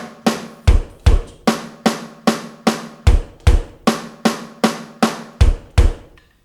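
A snare drum and bass drum play a steady hand-and-foot fill in a right, left, foot, foot pattern, the sharp, close snare strokes regularly joined by deep kick thumps in an even, repeating rhythm with no talking.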